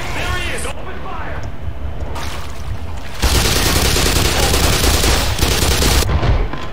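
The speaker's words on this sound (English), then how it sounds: "Sentry gun right there." Sentry gun in the Black Mesa video game fires in sustained bursts, loud and close, with a dense rattling stretch in the second half, mixed with game noise and talk.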